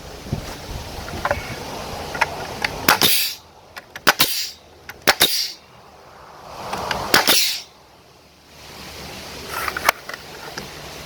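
A nail gun drives nails into the wooden walls of a forest cabin, producing several sharp, loud pneumatic bangs in irregular clusters, each with a brief hissing tail.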